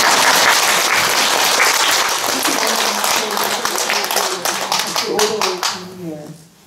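Dharma-assembly audience clapping to welcome a visiting monk: loud, dense applause at first that thins into scattered individual claps and fades out, with voices talking underneath toward the end.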